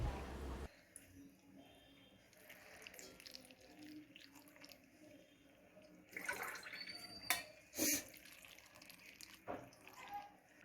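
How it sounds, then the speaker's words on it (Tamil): Two glasses of water are poured into a pot of chopped tomatoes while pulicchakeerai is being cooked. Soft splashing and pouring bursts come mostly in the latter half, quiet, with faint kitchen clatter around them. "இப்போ 2 கிளாஸ் தண்ணியை சேர்த்துக்கோங்க."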